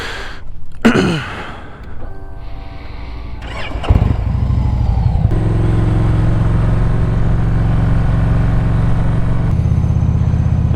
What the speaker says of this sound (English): I'm gonna drive down there some more